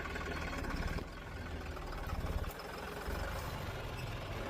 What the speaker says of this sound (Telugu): నేను ఈరోజు ట్రాక్టర్ కొడుతున్నా. 5310 జాన్ డియర్